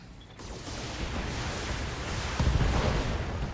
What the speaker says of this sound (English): The explosion incapacitated him, I believe.